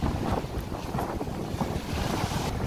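Strong wind roars steadily across a rocky beach in Romblon, buffeting the microphone with dense low rumble while waves and surf wash continuously underneath, loud and unbroken throughout.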